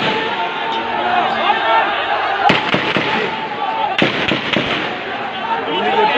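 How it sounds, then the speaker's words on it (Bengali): Sharp cracks of army gunfire ring out during a street protest, two loud reports standing above constant crowd noise and excited voices. "সেনাবাহিনী গুলি করতেছে"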